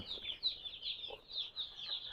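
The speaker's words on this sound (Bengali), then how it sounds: "বাচ্চাগুলো খুব সুন্দরভাবে খাবার এবং পানি খাচ্ছে" Young chicks on a poultry farm peep continuously in a dense, high chorus at close range while feeding and drinking, with no voices.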